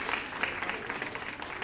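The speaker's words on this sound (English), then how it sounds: "Clap it up for all our panelists and our speakers." Audience applause for workshop panelists and speakers, a dense wash of clapping held steady and moderately loud across the short stretch.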